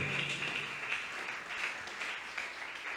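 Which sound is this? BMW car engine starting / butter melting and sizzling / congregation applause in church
congregation applause in church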